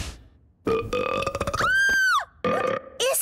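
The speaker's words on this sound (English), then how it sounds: "It seems to be a box of burps, Your Majesty." Cartoon burps spill out of a magic box in Ben and Holly's Little Kingdom: a run of loud, exaggerated belches, one long rising and falling burp in the middle and shorter ones after it, close and alone.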